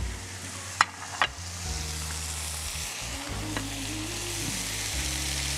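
Chicken breast sizzling in a frying pan, a steady close crackling fry with a few sharp clinks of utensils at the start and a low hum beneath, no voices.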